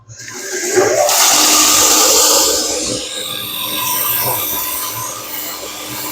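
A belt grinder running a used 400 grit belt deburrs the edge of a 240mm white steel deba knife, giving a loud steady whooshing hiss of abrasive on steel that swells, then eases slightly.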